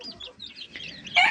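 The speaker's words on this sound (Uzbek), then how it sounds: "Jo'jalar mana shularni ochirdim." Newly hatched grey and black chicks cheep in thin, high, quiet peeps scattered across the moment, ending in a louder close burst of chirping.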